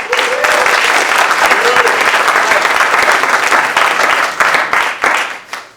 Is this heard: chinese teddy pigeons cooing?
no